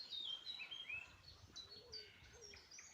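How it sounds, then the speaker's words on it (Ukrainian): Several birds chirp and tweet in short, high calls over a soft outdoor background, fairly close and clear. "Почуйте, як гарно пташки співають."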